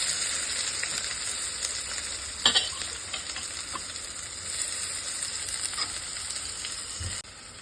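Onions and garlic sizzle steadily in a hot pan, with scattered scraping and stirring clatters close by and a sharper knock near the middle.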